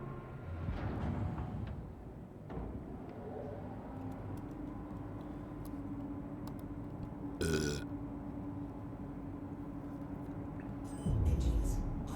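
Spaceship engines spool up in Star Citizen, a low steady rumble with a droning hum, a sharp hiss burst midway and a heavier thrust surge near the end.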